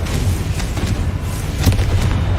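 Bombarda and Confringo spell explosions from Hogwarts Legacy rumble as a dense, continuous stretch of booms with no pause, loud and close, with a sharper blast near the end.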